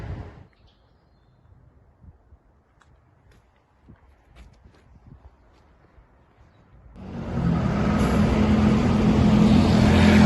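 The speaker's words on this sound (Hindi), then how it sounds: "बहुत बिजी ट्रैफिक लग रही है आज यहाँ पे, बहुत ज़्यादा ट्रैफिक है।" Busy street traffic heard while walking along a road, starting as faint, sparse distant movement and then rising after several seconds into a loud, steady wash of passing vehicles close by.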